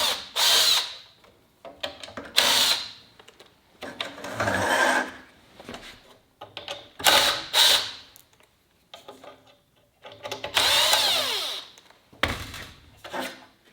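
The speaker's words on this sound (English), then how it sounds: "So let me take off the bezel." Plastic trim on the dash bezel of a 2009 Subaru Outback is pried and unclipped by hand, short bursts of scraping, creaking and snapping close by, separated by pauses, with no speech.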